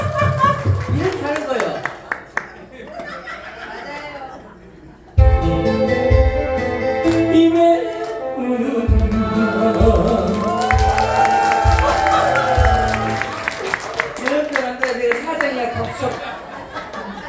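An audience at a Korean singing class claps and cheers after a song, with bursts of rhythmic clapping, laughter and lively chatter mixed among voices and some music throughout.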